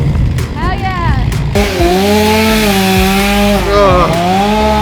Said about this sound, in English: I used a chainsaw for the first time.